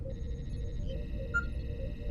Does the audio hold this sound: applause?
no